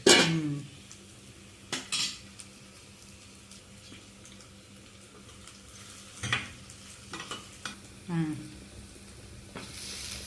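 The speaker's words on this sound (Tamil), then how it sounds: "இது வதங்கணும் தக்காளி வெங்காயம் வதங்கணும்" Tomato and onion sautéing in a pan for ridge gourd kootu, with a soft sizzle beneath scattered clinks and scrapes of a spoon stirring against the pot, several louder knocks spaced through the stretch.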